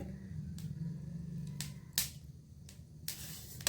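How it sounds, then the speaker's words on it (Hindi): Sharp dry pops and crackles of flaxseeds dry-roasting in a pan burst out every half second or so, up close over a low steady hum of heat beneath. "तीसी से जो अलसी जो है, इनसे चिटचिट की आवाज़ आने लग गई है।"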